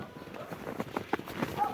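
Hooves of young bay colts clip-clop on a Ukrainian horse farm, a few uneven close hoof knocks under quiet background talk.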